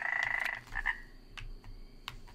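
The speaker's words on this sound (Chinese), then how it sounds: "哇，这里有个大青蛙" A big frog croaks in the Feral animal-simulator game, several short croaking bursts close up, with a faint low hum behind.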